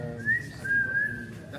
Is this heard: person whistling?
yes